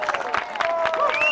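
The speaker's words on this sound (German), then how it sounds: "Danke für den Applaus." Applause and crowd cheering in the Democracy 3 video game form a dense wash of clapping, with a voice speaking over it throughout.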